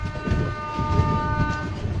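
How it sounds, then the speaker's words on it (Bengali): The Rupasi Bangla Express pulls away from Adra station with a loud, close, steady rumble of wheels and carriages, overlaid by sustained tonal horn-like notes. "ধীরে ধীরে ট্রেন আদ্রা স্টেশন থেকে দূরে সরে যাচ্ছে।"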